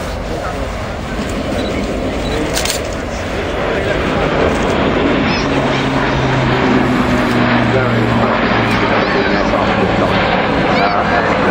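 Airbus test aircraft flying display at the Fairford Royal International Air Tattoo, a loud sustained jet engine roar that swells and drones over the whole stretch, with an announcer talking over it.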